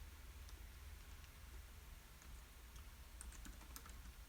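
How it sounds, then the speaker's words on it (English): Steady typing on a computer keyboard, quiet clicks and taps repeating in an irregular rhythm over a low background hum, with no voices. "I'm typing now"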